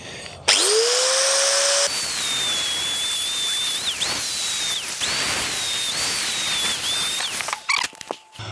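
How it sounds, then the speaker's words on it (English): Power drill boring holes through a scaffolding pole, a loud, steady high-pitched whine with tone shifts as the bit bites and eases, running continuously before cutting off near the end. "we're going to have to drill the holes as well, aren't we?"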